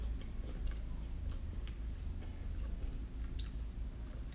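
Someone chews crunchy Doritos Loaded Cool Ranch chips with cheese filling, the bites giving faint, irregular crackly ticks up close over a low steady hum.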